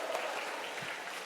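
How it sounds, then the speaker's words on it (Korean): Faint, distant applause from a congregation at a Korean church dedication worship service, a soft continuous patter of many hands with no clear individual claps. "박수 한번 쳐주세요."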